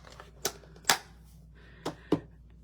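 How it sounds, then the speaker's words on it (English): Scissors snip out a small paper card piece by hand, giving four crisp, close, separate cuts in an otherwise quiet room. "we'll fussy cut that out as well"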